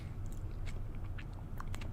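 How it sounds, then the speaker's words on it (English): Someone chews food close to the microphone, producing soft, irregular crunchy clicks and wet bites over a low, quiet background, with no talking. "And you'll be hearing me chew"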